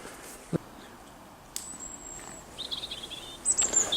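Faint robin song of scattered chirps and high whistled notes, growing busier toward the end, over a quiet outdoor background at an abandoned building in Scotland.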